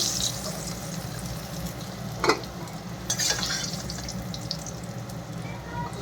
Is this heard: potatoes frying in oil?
yes